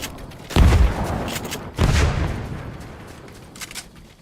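Two heavy, booming grenade blasts in a video game land about a second apart, each followed by a rumbling decay, with fainter crackling afterward.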